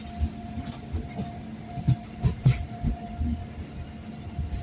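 Clickety-clack of the Matsyagandha Express rolling between Mangalore and Barkur, heard from inside the carriage as a low steady rumble with a few distinct wheel thumps, no talking.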